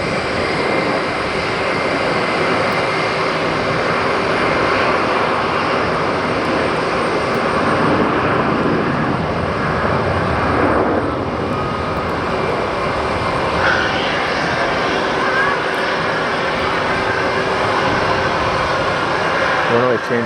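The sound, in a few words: jet airliner flying at JFK airport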